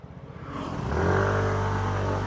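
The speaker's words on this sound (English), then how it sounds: "We'll let that scooter go by as well." A motor scooter on a rural road in Taiwan, passing close by with a steady engine drone that swells as it nears and holds loud and broadband, set against outdoor ambience.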